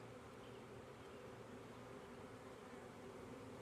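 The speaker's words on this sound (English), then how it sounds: "There's a lot of bees on this frame." Dense, steady buzzing of many honeybees crowded on a hive frame, a continuous close-up drone with no gaps and no voices.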